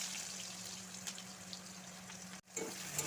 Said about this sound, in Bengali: দিয়ে দিচ্ছি কুচিয়ে রাখা পেঁয়াজ।